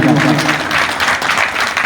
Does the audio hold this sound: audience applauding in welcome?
yes